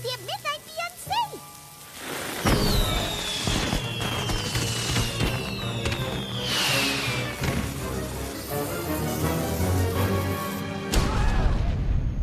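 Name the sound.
cartoon magic fireworks going off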